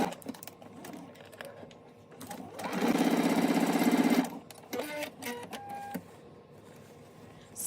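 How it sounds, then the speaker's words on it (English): A sewing machine runs in a fast, even burst of stitching for about a second and a half while a front band of a garment is sewn, with handling clicks and rustles before and after. "So let's take this to the sewing machine."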